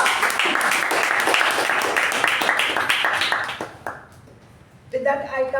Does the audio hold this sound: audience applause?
yes